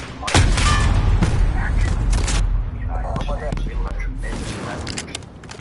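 Gunfire in the Modern Warfare video game: rapid bursts of shots and heavy booms roll on loudly, then ease slightly, with voices talking over the firefight.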